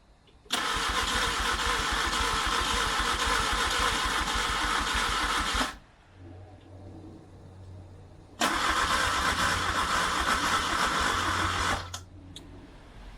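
A Peugeot 104 engine cranks on its first start attempt in two long bursts of several seconds each, a loud, steady, rapid churn that stops without catching, with a low hum in the pause between.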